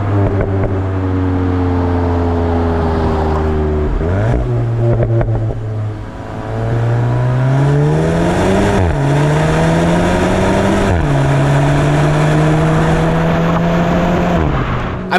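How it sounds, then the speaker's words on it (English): A Volkswagen Golf GTI roars loud and close as its engine revs rise and drop through several downshifts, with crackling exhaust pops and bangs between gear changes and no talking. "I'm pretty sure you heard the pops and bangs in the GoPro footage"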